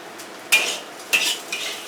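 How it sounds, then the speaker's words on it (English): Pattaya fried rice (nasi goreng) tossed in a hot wok: three sharp metallic spatula scrapes against the pan, close and distinct, with quieter gaps between them and no voices. "the wok is still hot and it's still drying up the rice"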